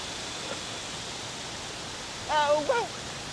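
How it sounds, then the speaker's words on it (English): A lawn sprinkler sprays water across a golf course green, a continuous loud hiss of spray filling the whole clip while someone speaks briefly near the end. "I'm gonna try to get in there really quick before the sprinkler hits me or the camera"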